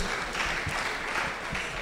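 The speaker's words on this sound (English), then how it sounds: "A round of applause for him." Audience at a public health grand round applauding, a soft, fairly distant patter of clapping that holds steady for a moment.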